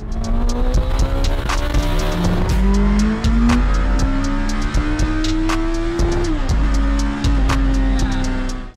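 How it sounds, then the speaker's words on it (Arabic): A small Suzuki Hayabusa-engined mini truck revs hard and climbs in pitch through several gear changes, with tire noise and rattling, loud and close, no talking. "المحرك صوته جامد جدا"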